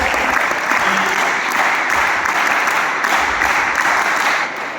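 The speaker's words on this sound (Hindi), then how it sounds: "तो एक बार जोरदार ताली आप लोग अपने लिए भी बजा लो पहले" Loud, sustained applause from a crowd at a Bharat Scouts and Guides camp in Chhattisgarh, steady clapping filling the whole stretch before easing slightly at the end.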